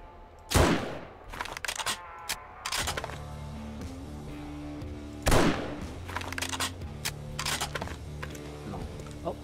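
Two loud, sharp gunshots from a firearm in the survival video game 7 Days To Die, spaced several seconds apart over steady background music, with a few fainter thumps between them.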